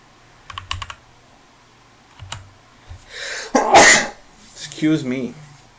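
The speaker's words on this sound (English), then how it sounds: "Excuse me for that sneeze." A single loud sneeze bursts out mid-clip after a few soft keyboard taps, followed by a short breathy exhale and a brief vocal sound.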